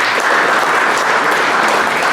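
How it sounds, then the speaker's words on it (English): Steady, dense audience applause at an agriculture industry reception, a sustained wash of clapping for the evening's sponsors with no voices over it. "A round of applause for them,"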